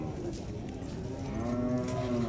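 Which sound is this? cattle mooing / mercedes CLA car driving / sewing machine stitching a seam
cattle mooing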